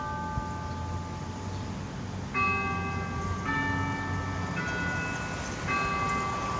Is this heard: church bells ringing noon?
yes